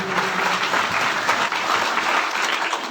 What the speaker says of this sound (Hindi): इनके लिए जोरदार ताली बजाओ।